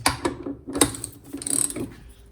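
A torque wrench ratchet clicks several times up close, with sharp, irregular metallic ticks and short pauses between bursts.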